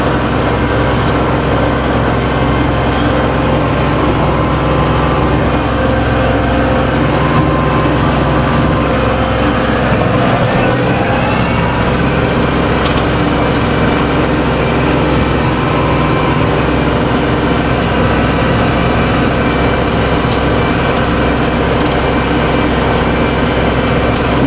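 A tractor engine drones loudly and continuously from inside the cab while driving on a hot day, a steady low rumble with faint rattling and no change in pace across the whole stretch.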